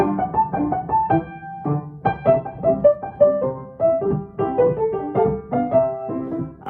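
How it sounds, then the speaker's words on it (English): A lively solo piano jig for ballet class in a bouncy compound rhythm, light and dancing, with clear repeated phrases. "I'd say it's probably a jig, and it sounds like this."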